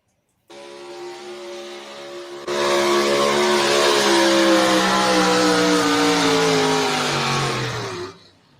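A pulling tractor at a tractor pull gives a loud, sustained engine roar. It jumps sharply in intensity, holds a high revving note that slowly drops in pitch, then cuts off abruptly.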